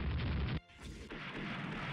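Naval guns fire in the Rule The Waves warship game, a loud sustained booming rumble that cuts off abruptly, then returns as a slightly quieter ongoing roar of gunfire.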